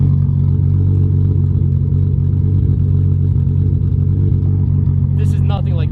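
A Toyota Supra engine idling with a lopey cam, a loud, steady low rumble throughout with a slightly uneven pulse, and a brief bit of higher noise near the end.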